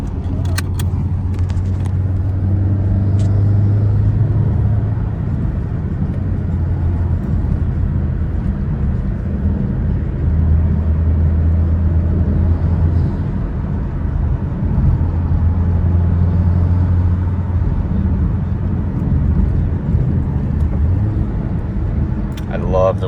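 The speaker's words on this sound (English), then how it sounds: "love the way the Type R downshifts. Like, it just rev matches." Engine of a Honda Civic Type R FK8 droning steadily from inside the car during driving and downshifts, a continuous low hum under ongoing talk.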